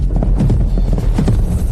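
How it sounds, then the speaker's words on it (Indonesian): Horse hooves clip-clopping in a steady, fast rhythm, loud and close, with a low rumbling backdrop throughout. "Itu suara kuda."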